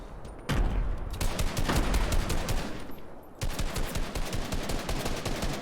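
Rapid automatic gunfire in Fortnite, long bursts of crackling shots in a fast steady rhythm, loud and close, briefly easing before a fresh burst picks up.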